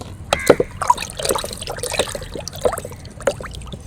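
Liquid fertilizer made from kitchen waste is stirred into water in a glass, producing soft irregular trickles, sloshes and small drips, close and fairly quiet, with no talking.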